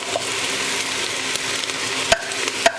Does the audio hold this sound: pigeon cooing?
no